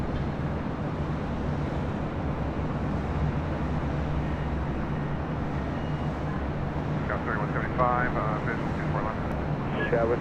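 A JetBlue Airbus A321 arriving at Los Angeles airport makes a continuous, fairly faint airliner rumble with a steady low drone, heard from a distance throughout while a voice talks over it.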